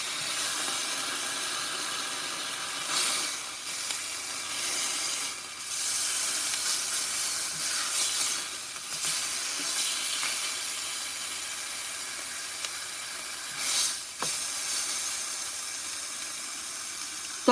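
Onions fry in a pan with pork chops, giving a steady soft sizzle and hiss with a few brief louder spits and flare-ups.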